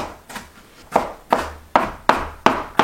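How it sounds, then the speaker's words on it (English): A knife chops through half of a small onion on a board, sharp evenly spaced thuds about every third of a second, close and alone with no talking. "Half of a small onion diced."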